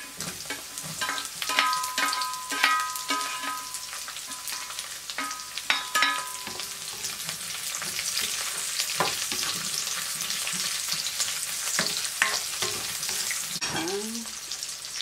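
Onion frying in a pan with pepper and flour, a steady crackling sizzle broken by frequent spatula scrapes and clatters, moderately loud throughout.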